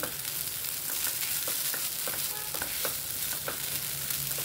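Grated fresh coconut being sautéed in a pan for karanji filling, a dense continuous sizzle with repeated soft stirring scrapes throughout, close and steady with no talking.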